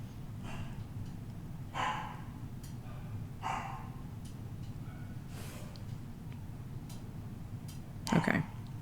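A dog indoors gives a few short, fairly faint barks spaced a couple of seconds apart, ending with a slightly louder bark, over a steady background hum and low room noise.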